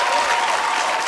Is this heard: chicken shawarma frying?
no